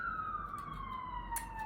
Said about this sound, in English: I don't know if the ambulance is a sign.